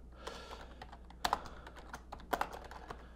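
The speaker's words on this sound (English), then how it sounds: "as I'm typing this out" Typing on a computer keyboard, close-up irregular clicks and taps with a few louder key strikes, alone with no talk.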